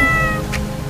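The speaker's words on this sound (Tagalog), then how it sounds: "Ito ang pusang ligaw." A stray cat gives a single loud, close meow, drawn out and tonal, heard alone outdoors.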